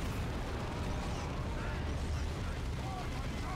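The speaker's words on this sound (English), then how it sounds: "The plasma cannon too good" Heavy plasma cannon fire booms in a Warhammer 40,000 Dawn of War 2 battle, a dense continuous roar of blasts and low rumbling explosions filling the whole stretch.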